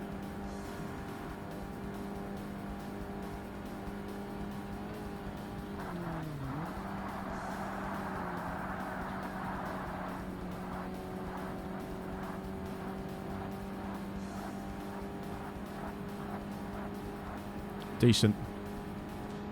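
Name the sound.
race car engine in Forza Motorsport video game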